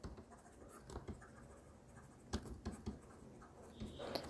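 Quiet handwriting with a pen on paper, heard as soft scratchy strokes and taps in irregular bursts, close and faint.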